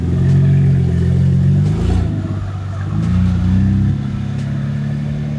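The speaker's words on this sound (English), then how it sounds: "pops and bangs. Only means one thing. The loudest car in the Woodlands." A loud car in a residential neighbourhood revs hard, its deep engine note surging and dropping across several throttle blips, with faint sharp crackles in between. The sound is close and strong, with no talk over it.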